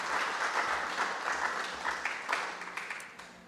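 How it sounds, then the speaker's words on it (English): A moderately quiet audience applauds a panel at a data science partnership launch, even clapping that trails off into a few scattered claps. "Let's give them a round of applause."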